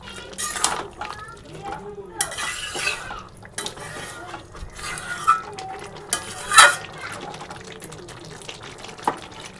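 A pan of green jackfruit curry with garam masala being stirred, with scraping and clinking spoon-on-pan sounds in uneven bursts, heard under a voice talking in the kitchen.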